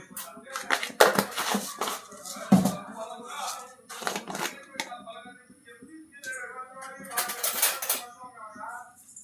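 Tempering spices crackle and pop as they hit hot oil during a potato fry, with scattered sizzling snaps and clinks of utensils under someone talking.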